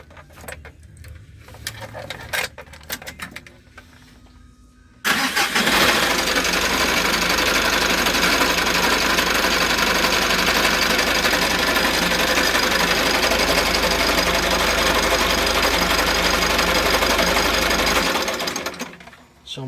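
A 4N14 diesel engine with an unusual noise runs loudly and steadily for about fifteen seconds with a dense, rattling mechanical clatter, after a few seconds of handling sounds and talking.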